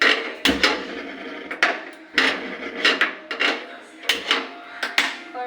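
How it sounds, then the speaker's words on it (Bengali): A gas stove is lit under a kadai with a series of sharp, close clicks from the igniter, repeated in quick irregular bursts. "গ্যাসটা জ্বালাবো।"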